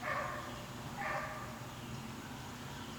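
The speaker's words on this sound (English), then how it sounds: "He's barking at her mowing the grass." A dog barks twice in a row, faint and distant outdoors over a low background hum, then falls quiet.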